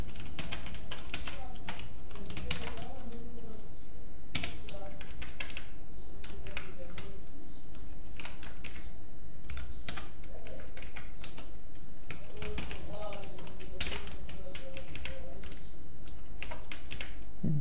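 Code is being typed on a computer keyboard in a steady stream of clicky keystrokes with short pauses, close and clear throughout, with no talking over it.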